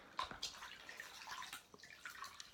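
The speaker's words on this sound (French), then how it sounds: "je rince, donc avec des petites éponges" Water splashes and drips faintly as face scrub is rinsed off with small sponges, with soft, irregular wet dabs and trickles close by.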